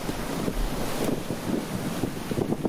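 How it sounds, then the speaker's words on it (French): Strong wind of about thirty knots buffets a sailing yacht on a rough, grey sea, a loud continuous roar of gusts against the microphone mixed with waves slapping the hull, no voices. "Le vent passe à une trentaine de nœuds, le ciel est gris et la mer se transforme en champ de bosse."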